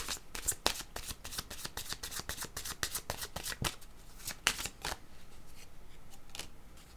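Pink cards shuffled by hand for a card reading: a close, rapid run of papery flicks and riffles that thins to occasional slaps, with no talking.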